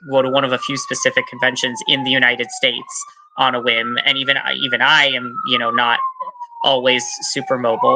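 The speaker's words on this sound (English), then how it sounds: "I apologize for the siren passing by if you can hear it." A passing emergency vehicle's siren wails and slowly sweeps down in pitch behind close, continuous speech from a person talking.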